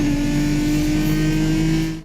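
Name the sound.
twin-turbo inline-6 engine revving in Need for Speed video game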